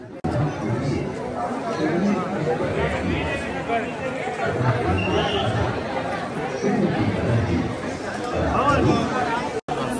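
A crowd of pilgrims at the Vaishno Devi Bhawan shrine, a continuous loud babble of many voices and footsteps that fills the whole scene at close range.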